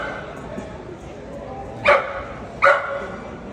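Two loud dog barks ring out about a second apart, close by, over a murmur of crowd noise at a bully breed showcase.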